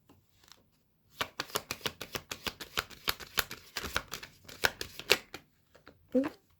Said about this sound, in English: I'm going to pull one more card for the 8th house.